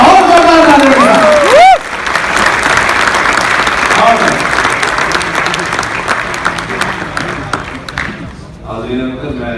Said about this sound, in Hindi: और जोरदार ताली के साथ।